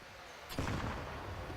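A grenade goes off in Counter-Strike during a CS:GO esports match, a sudden loud blast at about half a second followed by a rumbling decay that lasts to the end, with no talking over it.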